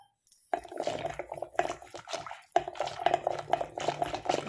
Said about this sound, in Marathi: थोडंसं घट्ट आहे म्हणून मी यावरती थोडंसं पाणी घालते, एक पेलावर